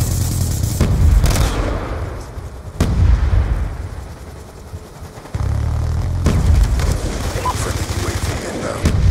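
RPG explosions and gunfire in the Black Ops 2 multiplayer video game, with heavy booms and bursts of rapid shots in a loud, dense mix and a lull midway, with a player talking over it.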